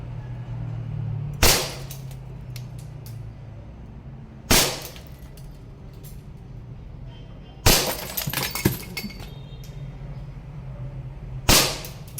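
Glass targets shatter under BB shots from a WE M92 Beretta airsoft pistol, with four sharp breaking crashes spaced a few seconds apart over a low background hum, each followed by brief tinkling shards.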